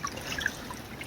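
Creek water trickling outdoors, a faint, steady burble with small bright splashes and drips scattered through it.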